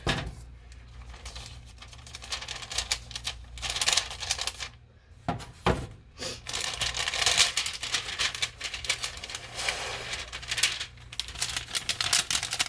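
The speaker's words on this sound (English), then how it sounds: "So let me get the shrink wrap." Plastic shrink wrap sleeve for a sublimation skinny tumbler handled up close, giving rapid crinkling and rustling in uneven bursts with a couple of brief pauses.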